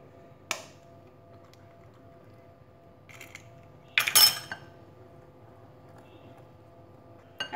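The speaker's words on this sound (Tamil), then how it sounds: "இப்போ இந்த ஒரு முட்டையை உடச்சி விட்டுறேன்." An egg cracks against a bowl for cupcake batter in a quiet kitchen: a short, sharp crack near the middle, with a few faint clinks of utensils before and after.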